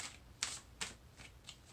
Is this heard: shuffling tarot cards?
yes